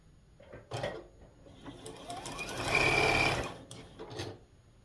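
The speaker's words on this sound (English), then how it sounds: "we're just going to flip these over and sew them on top" A sewing machine stitches pieces of a snowman quilt together, its motor whirring in short bursts that swell into one longer, steady run at close range, with no talking.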